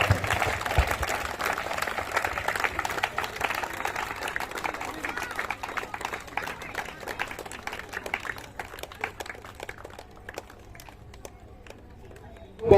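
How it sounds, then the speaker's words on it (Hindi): An audience at a Chitragupta Puja cultural program in Asi Bangarhatta claps steadily, a scattered patter that fades toward the end, with a voice speaking over it. "जोरदार ताली, ताली बजते रहना चाहिए"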